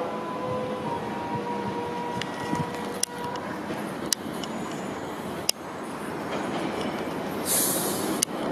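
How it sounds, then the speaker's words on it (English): A train runs through a station on Oxford Road without stopping, a continuous loud rumble with rhythmic sharp wheel clacks over rail joints and a brief high squeal near the end. "The train now approaching platform 1 does not stop here."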